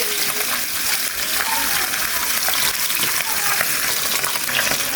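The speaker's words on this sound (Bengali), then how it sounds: "সেই জন্য মাছগুলো ভাজছি আগে" Fish frying in a pan of hot oil, a dense, loud, steady sizzle and crackle filling the whole stretch, heard close up.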